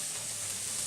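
Mushrooms and peppers stir-frying in a hot pan for a beef stir fry, a brief loud continuous sizzle heard up close.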